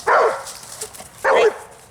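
Two loud, close barks from a red nose pitbull during a prey-drive and impulse-control training session, spaced about a second apart with a quiet gap between them.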